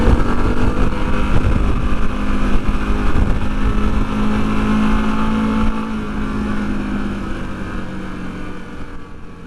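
Harley Davidson Pan America motorcycle engine droning under light maintenance throttle while riding, a loud continuous rumble mixed with wind rush that eases slightly toward the end.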